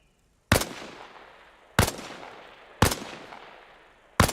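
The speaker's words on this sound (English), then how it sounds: "Position yourself behind the wall and lean out while firing." Rifle shots crack one at a time in the video game ARMA: Reforger, four sharp loud reports spaced about a second apart, each trailing off into a brief echo.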